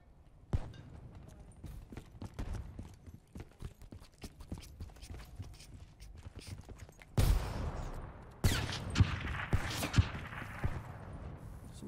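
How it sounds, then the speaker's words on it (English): Gunfire in Black Ops 3: scattered sharp shots and clicks pop through quieter game noise, then louder bursts of fire and impacts break out near the end. "Somebody shooting at me?"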